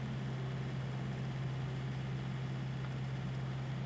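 A tractor crawling slowly in the Farming Simulator 19 video game, a low steady engine drone with a strong bass hum, unchanging and continuous throughout.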